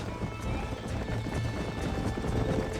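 Horse hooves clip-clopping at a steady trot in Red Dead Redemption, a continuous rhythmic patter of hoofbeats over low ambient game sound, fairly close and even in level throughout.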